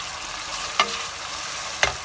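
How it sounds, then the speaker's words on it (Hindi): Ginger and garlic frying in a pan with oil ahead of tomatoes for a spicy kareela gosht, a steady close sizzle broken by two brief stirring scrapes. "अब अदरक लहसुन को थोड़ा सा भून के अब हम इसमें डालेंगे टमाटर"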